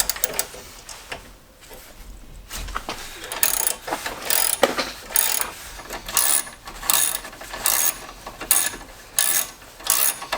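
A ratchet wrench loosens the 10mm bolts holding a radiator in a garage: rapid, bright clicking bursts repeating in a steady back-and-forth rhythm, close and fairly loud, with brief gaps and shuffling between strokes.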